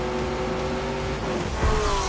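A supercharged Corvette Z06 holds a steady, loud engine drone that swells slightly as the car starts to launch, with no talk over it.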